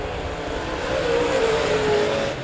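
Late model race cars circle Monett Motor Speedway, a steady engine roar with a rising whine as cars close in, the leader working past lapped traffic, heard at moderate distance.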